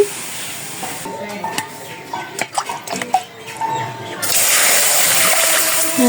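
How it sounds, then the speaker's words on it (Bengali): Water is poured into a pot of cooked lentils (dal): soft bubbling and clatter, then a loud, steady, close rushing gush over the last couple of seconds. "জল দিয়ে দিলাম"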